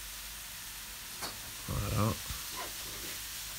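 Vegetables frying in a saucepan under a steady soft sizzle, with a brief stirring scrape in the middle and someone speaking a single short word over it.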